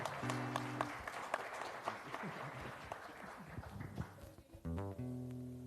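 A church congregation applauds during a Sunday morning service, with a mid-level clapping wash that runs steadily under organ or keyboard tones and ends as music swells.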